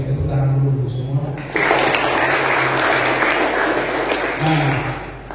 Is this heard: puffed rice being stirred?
no